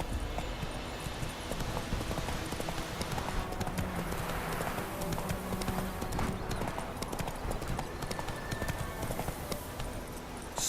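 Roach the horse walks in The Witcher 3: Wild Hunt, her hooves clip-clopping in a steady, continuous rhythm over a dense ambient background.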